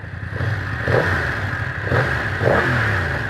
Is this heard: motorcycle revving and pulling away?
yes